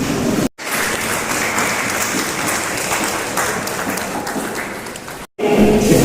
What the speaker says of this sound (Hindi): आप एक 10 सेकंड के लिए क्यों न हो खड़े होकर लोक सेवा ग्रुप के लिए तालियां बजाएं